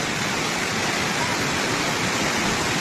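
Loud, steady rush of floodwater pouring near a cracked new bridge in Tuba, Benguet after a typhoon, a dense unbroken roar filling the whole clip with no voices.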